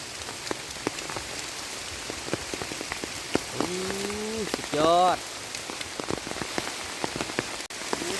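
Steady rain falls outdoors while mushrooms are gathered, with a constant hiss and scattered close drips hitting the ground, and a voice speaks briefly over it.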